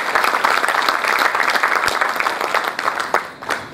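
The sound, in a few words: audience applause for the guests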